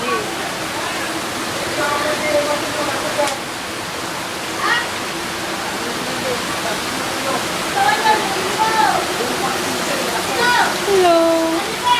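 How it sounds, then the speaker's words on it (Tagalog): Floodwater rushes in a steady, loud broadband roar like a waterfall throughout, with excited voices talking over it at intervals. "At ayun na nga, ang baha."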